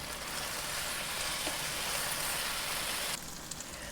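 Eggplant fries in a pan over heat just above medium, giving a loud, steady, close sizzle that carries on evenly, then drops slightly in level near the end.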